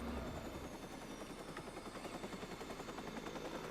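A helicopter in the video game Watch Dogs 2 produces a steady, loud rotor thrum with rapid rhythmic chopping that fills the whole moment without any talk.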